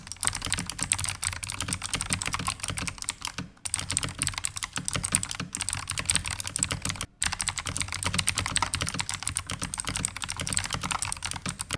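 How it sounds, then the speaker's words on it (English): Continuous fast typing on a clicky mechanical keyboard, a daWg Highkey 373, dense crisp clicks with a couple of brief pauses, close and loud. "you like clicky switches and you also mash your fingers on your keyboard like a typewriter"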